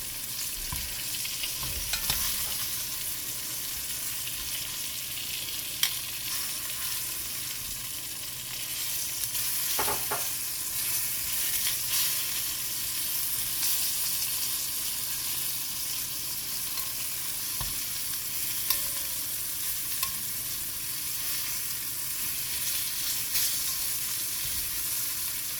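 Beef pieces for stew searing in a pan, a steady quiet sizzle and hiss running continuously with occasional soft clinks and stirring bumps, no voices.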